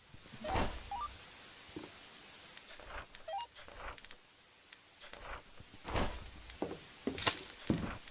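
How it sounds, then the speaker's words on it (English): Glass breaks repeatedly inside a Roblox horror game, with scattered sharp shattering crashes and clinks coming in bursts over a quiet background. "It's breaking a lot of glass."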